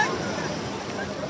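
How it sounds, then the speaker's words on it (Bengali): Surf at Sugandha beach in Cox's Bazar rolls in as a steady broadband wash, close and continuous for a short stretch with no clear break between waves. "ঢেউগুলো যেভাবে তেড়ে আসে"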